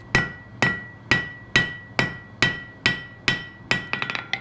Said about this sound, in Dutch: Smit doet alles met een hamer.